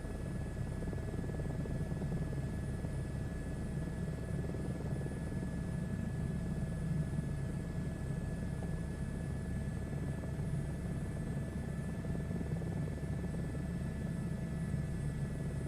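Airbus H125 helicopter in the Microsoft Flight Simulator 2024 video game, a steady droning rotor and turbine hum with a faint high whine, constant and unbroken throughout.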